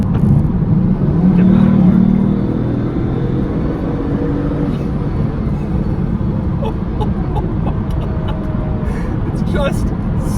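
A 2000s Bugatti Veyron's engine roars loud and close, a deep, rough growl that swells in the first seconds, then holds a steady heavy drone, with someone talking over it.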